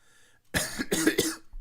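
A short fit of close, harsh coughing, three or four rapid hacks in a row after a moment of near silence.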